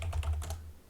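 Quick run of computer keyboard typing, several close, crisp key clicks in an irregular burst lasting under a second, with no voices.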